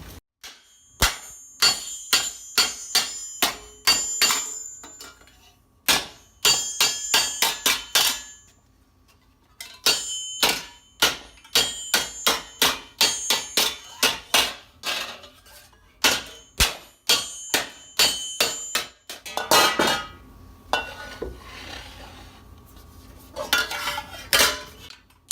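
Armor helmet sheet metal is hammered alternately on a wooden stump and a steel anvil, sharp ringing blows in quick bursts with short pauses between runs, close and loud with no talking.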